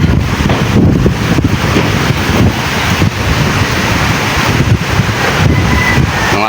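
Strong wind buffets the microphone at sea during Typhoon Crising, with rough waves churning steadily underneath, a loud continuous roar throughout and no voices.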